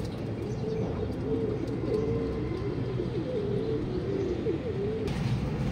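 Racing pigeons at a club training in Luisiana, Laguna coo in a steady, overlapping chorus of low throaty warbles, close and continuous over a dense outdoor background.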